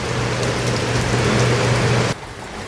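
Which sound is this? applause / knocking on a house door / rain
rain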